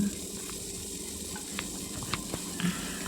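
Sliced onion hits hot oil in a pan and sizzles steadily for the whole stretch, a close, continuous hiss with a few small clicks and stirring taps, cooking a Kerala-style inji curry.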